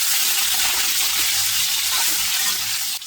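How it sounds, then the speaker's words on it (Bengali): Potatoes and pumpkin pieces frying in oil over a high gas flame, a dense, loud, continuous hiss and crackle close up, steady throughout before a slight drop at the end. "আলু কুমড়োগুলোকে প্রথমে 2 থেকে 3 মিনিট একটু ভেজে নেব, গ্যাসের ফ্লেমটাকে হাইতে রেখে"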